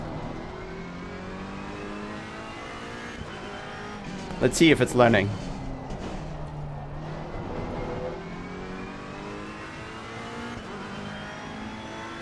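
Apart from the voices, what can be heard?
race car engine revving and shifting gears, video game Assetto Corsa Competizione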